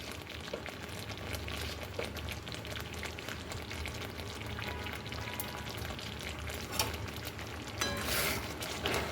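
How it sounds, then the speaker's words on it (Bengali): A spice mixture with salt and turmeric fries in a pan with a continuous, fairly quiet crackling sizzle and a few brief stirring noises toward the end. "তো এই মশলাটা দেখুন ভাজা ভাজা হয়ে গেছে।"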